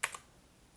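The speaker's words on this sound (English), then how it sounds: "So now we're going to type same password" Two quick, light keystrokes on a computer keyboard tap out part of a password, faint and close in a quiet room.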